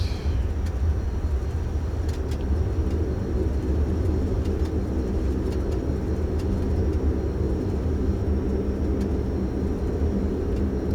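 A Dash 8 turboprop airliner taxiing in a flight simulator, with a steady low engine drone and hum continuing evenly throughout, plus faint occasional clicks.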